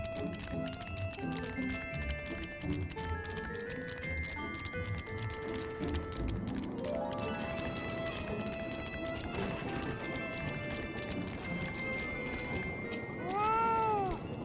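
A fat cat meowing in the video game Final Fantasy XIV Dawntrail, a few short meows over layered game music and tonal effects, with a brief rising chime near the end.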